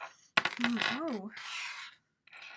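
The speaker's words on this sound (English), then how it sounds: "I dropped a charm" A small metal tarot charm drops onto a table, a sharp near impact followed by quick ringing bounces and a spinning, wobbling rattle that settles, then a faint scrape.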